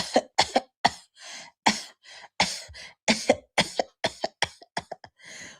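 A rapid series of harsh, sharp coughs, many bursts in quick succession, loud and close, with brief gaps between them.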